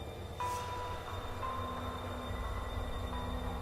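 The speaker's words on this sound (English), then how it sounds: "There's something about this green, transparent, and eerie train that suggests it's not meant to be here." A spectral green, transparent train in The Darkside Detective gives a steady low rumble with faint tonal whines and a brief hiss, continuous and moderately loud.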